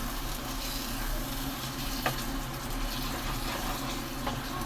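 Paneer gravy cooking in a pan on a stove over low heat, giving a steady soft sizzle and bubbling with a brief scrape of stirring partway through, close and without talk.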